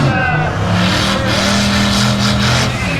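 A car roars past close by, its engine loud and steady throughout, with tire and road noise filling the whole stretch.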